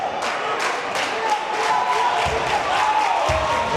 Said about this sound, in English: the bench is starting to get a little rowdy there for the Rangers as they're cheering on the team